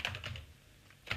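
Quick keystrokes tap on a computer keyboard while an email address is entered, a brief close burst of clicks, a short pause, then a few more presses.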